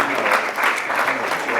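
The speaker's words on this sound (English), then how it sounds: "how about a round of applause for our new majority panel" A crowd applauds a panel at a formal address, dense, even clapping that stays loud and continuous through the whole short stretch, with no voice standing out above it.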